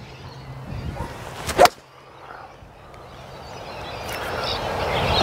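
A Callaway Rogue family golf iron strikes a ball outdoors with one sharp, slightly clunky but solid click. It is brief and close, set against steady outdoor background noise that slowly grows louder afterward.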